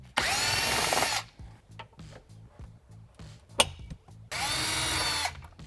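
A power drill backing out size 40 Torx screws from the roof of a 2016-2021 Polaris General XP 1000, two loud sustained whirring bursts at the start and end with quiet clicks and handling between.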